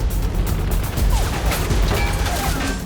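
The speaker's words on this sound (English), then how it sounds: "Firing 20mm explosive shells at a rate of over 7 per second" Rapid automatic 20mm cannon fire with explosive shells, a dense continuous barrage of loud overlapping blasts and cracks sustained through the whole stretch.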